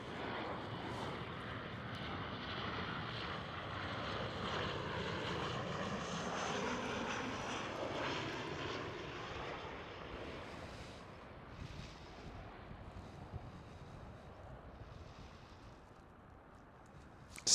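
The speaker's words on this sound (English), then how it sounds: "next one up is a KLM 737." A KLM Boeing 737 jet airliner at Amsterdam Schiphol gives a sustained engine roar that builds and holds, then gradually fades into a distant rumble with wind noise.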